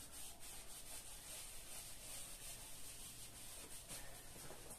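Sandpaper rubbing over a burnished cement surface, steady close scratchy strokes in a continuous back-and-forth rhythm, quiet and without talk.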